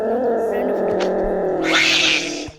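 A cat yowls in a video game, one long drawn-out wailing cry that swells louder toward the end before cutting off.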